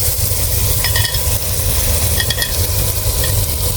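Karela gosht, bitter gourd with mutton, frying in a pan: a loud, steady sizzle with a few light stirring scrapes of a utensil throughout, and no talking.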